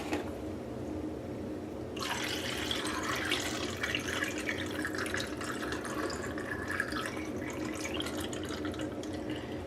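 Liquid fixer is poured steadily into a film developing tank beside a sink, starting abruptly after a quiet moment and continuing as a close, even splashing trickle for about eight seconds with no talk.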